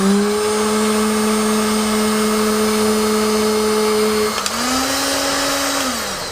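An electric hot air gun, a cheap powerful model, runs steadily with a loud, even motor whine and airflow hiss, then shifts pitch briefly as its speed setting changes near the end.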